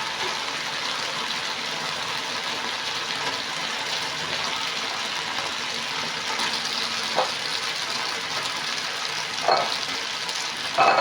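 Noodles being stir-fried in a pan for chicken chow mein, a steady, loud sizzle and hiss that runs throughout, with a few brief scrapes and clatters near the end.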